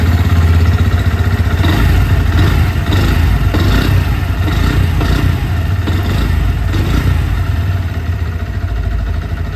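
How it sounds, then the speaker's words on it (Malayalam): A 2025 Bajaj Pulsar N125 motorcycle with an underbelly exhaust idles close by, its engine thrumming in a loud, steady low putter with faint mechanical clatter throughout. "നമുക്ക് വണ്ടിയുടെ എഞ്ചിനൊന്ന് സ്റ്റാർട്ട് ചെയ്തിട്ട് എഞ്ചിൻ്റെ സൗണ്ടും എക്സോസ്റ്റിൻ്റെ സൗണ്ടും ഒന്ന് കേട്ട് നോക്കാം"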